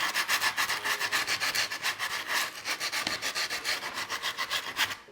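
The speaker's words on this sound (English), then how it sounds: "you're gonna go around your skateboard and just kind of sand it down" Sandpaper rubs back and forth along the edges of skateboard grip tape, a rapid, loud rasping scrape in quick regular strokes that carries on without pause.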